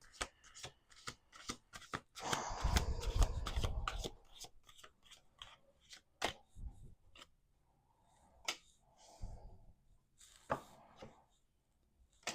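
Playing cards are riffled and shuffled close by, with a dense flurry of flicking followed by sharp taps and soft handling sounds.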